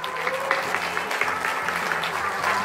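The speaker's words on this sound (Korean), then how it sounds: "힘찬 박수 부탁드리겠습니다" Audience applause at a labor human rights center founding assembly, a brief, steady patter of many hands clapping at moderate loudness with faint background murmur.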